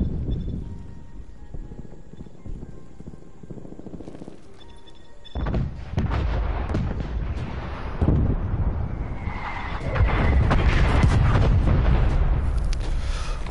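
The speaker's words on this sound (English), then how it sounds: "Artillery inbound!" Heavy booms and thunks from an artillery strike in the Call of Duty Cold War beta, beginning abruptly and rolling on in loud repeated impacts that grow denser and heavier toward the end.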